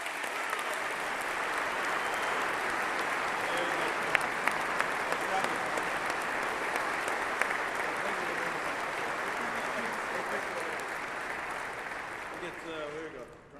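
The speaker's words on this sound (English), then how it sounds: "Give him one more big round of applause." Audience applause at a U.S. Army event, a steady dense clapping from a crowd that holds level for over twelve seconds before tapering off at the end.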